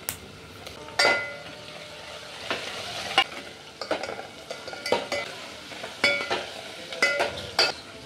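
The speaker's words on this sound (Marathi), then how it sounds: "व्यवस्थित मसाले सर्व मावशी आमचे हलवून घेत आहेत। मसाले टाकल्यानंतर थोडंसं चिमूटभर हिंग पण टाकलेलं आहे आणि टोमॅटो टाकलेला आहे" Spices, a pinch of hing and tomato sizzle in hot oil for a dal tempering, with a steady fry under repeated scraping and clinking strokes of a spoon stirring the pan.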